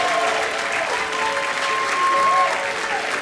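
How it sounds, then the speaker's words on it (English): A comedy show audience applauds steadily for a few seconds, a dense, even clapping from a crowd filling the room at moderate loudness. "Give him a big round of applause."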